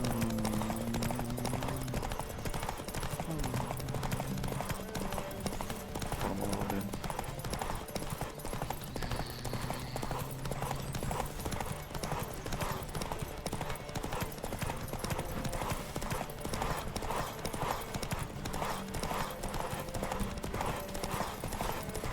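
Horse hooves gallop in a steady rhythmic clip-clop throughout a Witcher video game ride, with a few brief whinnies and game voices over the hoofbeats.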